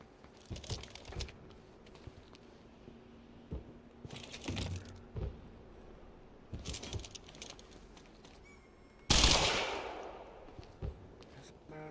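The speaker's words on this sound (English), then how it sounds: "That's a semi-automatic shotgun," Semi-automatic shotgun blasts in the Quantum Break video game, several loud sharp reports spaced across a few seconds, the last one biggest with a trailing boom, over a low game ambience.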